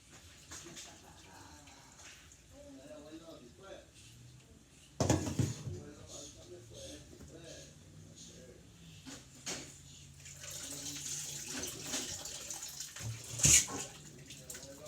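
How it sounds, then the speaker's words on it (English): Excess water is poured off from a pot, in repeated batches, while soft Salvadoran cuajada cheese is made by hand. Quiet splashing and running water is broken by a few louder clatters, under a person talking. "pour the excess water. And I'm going to do this repeatedly until this pot right here is empty."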